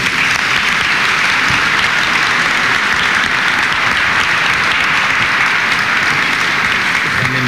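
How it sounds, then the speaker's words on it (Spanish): Loud, sustained applause from a crowd at a swearing-in ceremony for the new president of the Peruvian judiciary, attended by the country's president: dense, even clapping that continues without a break. "Le brindamos un fuerte aplauso."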